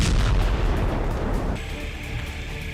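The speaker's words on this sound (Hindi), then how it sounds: "इजरायली आर्मी गाजा पट्टी पर लगातार बम बरसा रही है" Heavy bomb blasts from an Israeli army bombardment of the Gaza Strip roar as a loud, dense rumble that swells and then decays into a lingering hiss and distant reverberation.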